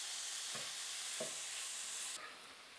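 Beef chunks browning in a frying pan for stroganoff give a steady, fairly quiet sizzle with a couple of soft scraping stirs, and the sizzle drops a little near the end.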